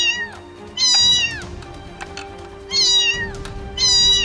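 A kitten in a cartoon scene gives three loud, high meows close up, spaced over a few seconds against a faint steady hum, with no talk.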